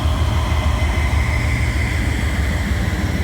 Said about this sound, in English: He's got a big old train here.